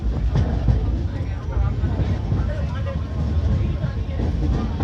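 Shalimar Express from Jammu Tawi to Barmer arriving behind an EMD diesel locomotive, a steady low rumble of rolling wagons that fills the whole moment while someone talks over it.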